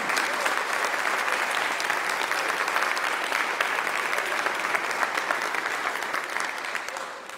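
A church congregation applauds at Sunday worship to welcome the Northern Plains Brass ensemble, a steady, dense wash of clapping that stays full throughout and tapers slightly at the very end.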